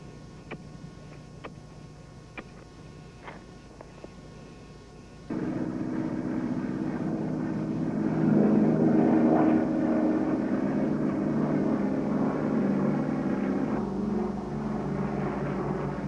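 Military aircraft engines drone overhead during a wartime bombing raid over mountain passes, starting abruptly after a few faint ticks and swelling into a loud, sustained rumbling roar that holds to the end.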